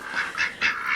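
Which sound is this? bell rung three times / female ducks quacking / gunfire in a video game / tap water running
female ducks quacking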